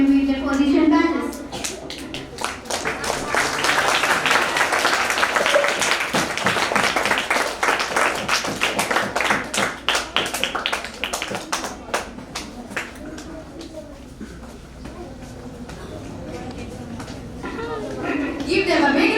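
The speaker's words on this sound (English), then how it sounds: "Give them a big round of applause," An audience at a school ceremony claps for newly elected student leaders receiving their badges, a loud spell of many hands clapping for several seconds, trailing into scattered claps and nearby chatter, with voices speaking at the start and end.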